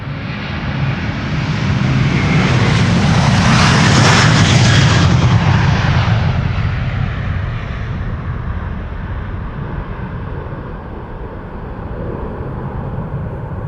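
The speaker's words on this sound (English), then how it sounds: "it is Delta Airlines flight 75 to Atlanta, Georgia, now coming this way in A330-300" Delta Air Lines Airbus A330-300, a 17-year-old jet bound for Atlanta, departs Amsterdam Schiphol with a loud, broad engine roar that swells, peaks near the listener, then slowly fades as it climbs away.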